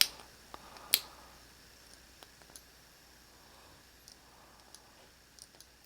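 A cheap tactical-look flashlight's switch clicked off and on: one loud, close click near the start, then several fainter scattered clicks and taps over quiet background.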